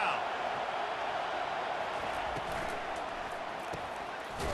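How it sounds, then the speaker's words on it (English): A big college stadium crowd in the EA Sports College Football 25 video game gives off a steady, broad roar that holds level throughout, with a commentator talking over it. "listen to the roar of this crowd"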